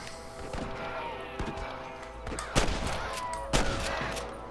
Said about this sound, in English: Still being kind of shot at.